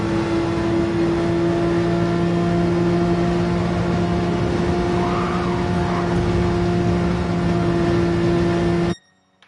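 Racing car engines in Gran Turismo 7 at Spa drone steadily with a loud, constant tone and a brief rising whine midway, then cut off abruptly at the end.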